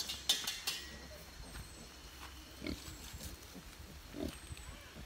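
Pigs on a farm grunt in faint, scattered short bursts, with a few distant squeals and rustles against a quiet background, and soft voices now and then.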